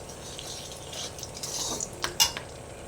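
Whole spices (bay leaf, cardamom, cinnamon, clove and dried chilli) hit hot oil in a pan with a rising crackling sizzle, followed by a few metallic clinks of a utensil against the pan; close and quiet.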